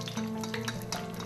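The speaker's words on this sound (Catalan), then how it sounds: "Fer un ou ferrat" An egg frying in a pan, a close, steady crackling sizzle with small pops and a faint low hum underneath, heard alone.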